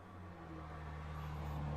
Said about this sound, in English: I've got my window open in here, and there's a lot of traffic today